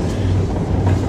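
A diesel train stands at a heritage railway station during a diesel gala, its engine giving a steady low rumble with faint clanking throughout.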